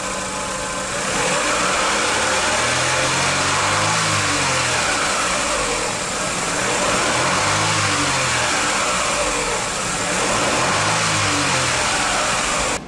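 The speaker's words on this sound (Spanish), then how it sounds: "voy a acelerar y desacelerar el motor" A car engine in a workshop running through repeated slow rev cycles, rising and falling about three times as the throttle opens and closes, loud and close, with a steady whine over the mechanical drone and no talk.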